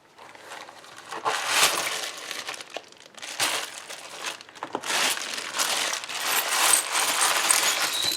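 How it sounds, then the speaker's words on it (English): Old coins are poured and handled, a busy metallic jingle and clatter that rises and falls in several bursts up close, with no talking. "The first step, of course, is to separate the coins by country, denomination or series"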